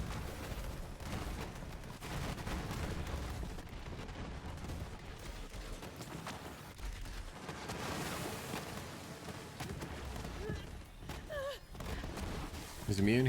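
Gunfire from Moze's weapons in Borderlands 3 during a raid boss fight: a dense, continuous wash of shots and blasts running the whole time at steady, loud level, with a louder burst near the end.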